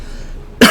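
A single sharp, loud cough bursts out at the very end, right after a stretch of quiet room tone.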